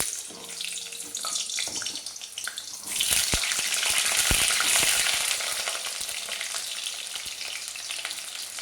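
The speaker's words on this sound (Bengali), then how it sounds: "তেলটা খুব ভালো গরম হয়ে গেছে, আলুগুলো দিয়ে দেব।" Potatoes are dropped into very hot oil in a wok, bursting into a loud, close, roaring fry about three seconds in that keeps hissing and crackling steadily after a quieter start.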